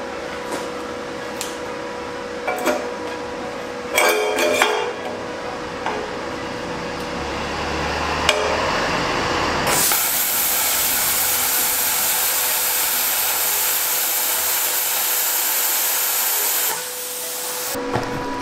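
A 100/200V plasma cutter slicing 1.6 mm steel C-channel scrap, a loud steady hissing roar that starts abruptly after a few short bursts and runs for several seconds before cutting off.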